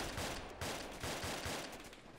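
Rapid gunfire in the Arma 2 military shooter during an attack on an enemy convoy, a quick string of sharp shots that stays steady and fairly distant, with no voices.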